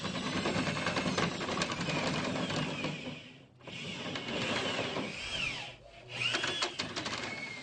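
A power drill whines steadily and close while drilling through a wall, with two brief dips where the motor pauses before spinning back up as the shaft slips in the chuck.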